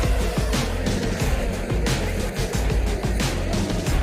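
Formula 1 cars launching from the start at Monza, a dense, loud roar of many engines revving and surging together with rapid gear changes.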